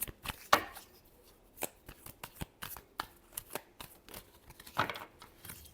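Tarot cards shuffled by hand in quick, crisp riffles and snaps, a burst of close, dry paper slaps repeating irregularly with short pauses between, no voices.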